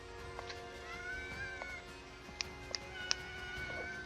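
A cat meows a few times, short and fairly faint, against a quiet room with steady background hum and game music; no talking.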